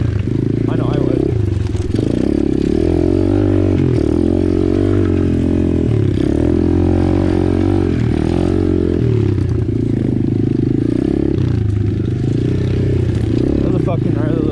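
A small-displacement pit bike of 110cc to 250cc climbing a short, steep hill, its engine droning and revving loudly up close throughout, with clattering over the ground and a rider talking intermittently.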